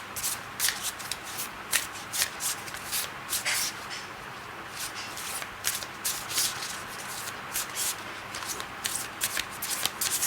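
A deck of tarot cards being shuffled up close, with a steady run of crisp riffling and flicking bursts lasting throughout and no voice over it.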